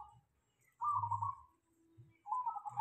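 A local perkutut zebra dove singing, soft ringing coos in short phrases separated by pauses, fairly close but quiet in a still setting with no talking.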